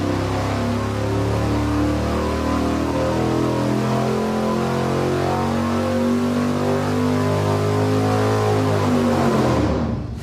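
A V8 engine on a dyno, fitted with stiff 800-pound valve springs and flimsy pushrods, roars loud and close as it sweeps steadily upward in a long sustained pull, then cuts off.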